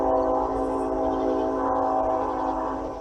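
A passing train, heard as a sustained tonal horn-like drone with harmonic bands and a rumbling undertone, fairly loud and steady for several seconds before easing slightly at the end, with no one speaking.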